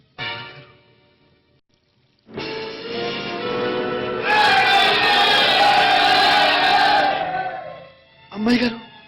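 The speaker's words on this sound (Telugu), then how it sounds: "జనం వచ్చేస్తున్నారు" An approaching crowd of villagers in a film climax, a massed roar of shouting voices swelling from a lone call into a loud, sustained clamor, then cutting to a brief shout.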